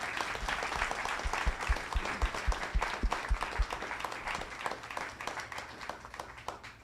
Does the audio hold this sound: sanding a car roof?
no